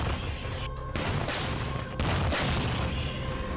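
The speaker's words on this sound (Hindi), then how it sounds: "जेवलिन से भी जोरदार हमले यूक्रेन होवित्जर तोप से कर रहा है।" Ukrainian howitzer artillery fire booms in heavy, sustained rumbling blasts, loud and continuous with a sharp new burst partway through, no voices.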